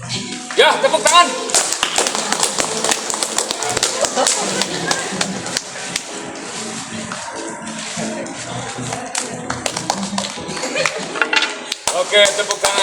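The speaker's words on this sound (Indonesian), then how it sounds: "Ya, tepuk tangan." An audience applauds at the close of a school theatre performance of Arifin C. Noor's play Matahari di Sebuah Jalan Kecil. The clapping is dense and steady throughout, with voices talking over it.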